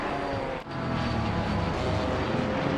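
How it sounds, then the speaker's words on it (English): A plane flies over the Donington circuit during a multiclass race, a steady broad roar that holds at moderate level throughout with no voices. "as I hear one of the planes fly by"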